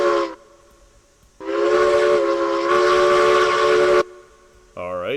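A steam locomotive whistle in the RailRoads Online train game, blown twice: a short blast, then a longer sustained chord-like wail with a brief pitch shift, followed by a different tone at the end.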